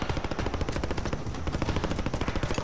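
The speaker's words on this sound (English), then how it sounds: "I heard gunfire to the left." Rapid automatic gunfire in Call of Duty: Modern Warfare, a steady dense rattle of shots filling the whole stretch, loud and continuous with no talk over it.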